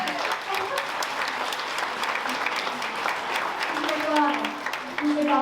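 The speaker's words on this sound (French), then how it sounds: "On va applaudir." Sustained audience applause at a mayor's New Year address, many hands clapping steadily throughout with a voice briefly audible over it.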